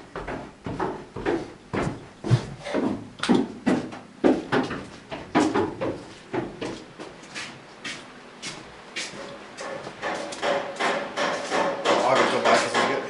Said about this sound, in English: He's got a hammer.